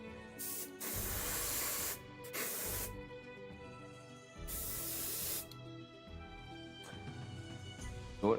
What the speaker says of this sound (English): Maybe make some shortcuts by using the old airbrush.